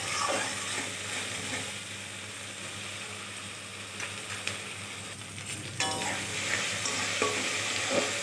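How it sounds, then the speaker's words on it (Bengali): Spice masala with salt and turmeric sizzles steadily in a pan while being stirred, with scraping strokes and a louder stirring clatter toward the end, close and alone without any talk. "এবার ভালোভাবে নেড়ে চেড়ে মশলাটাকে কষিয়ে নেব।"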